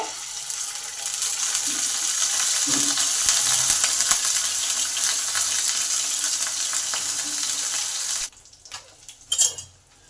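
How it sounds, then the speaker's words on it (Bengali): Rohu fish pieces fry in hot oil in a pan for a light cauliflower and potato curry, giving a steady close sizzle for about eight seconds before it cuts away to a few brief clinks and quieter handling sounds. "তেল গরম হলে মাছগুলোকে এক এক করে ভেজে নেব।"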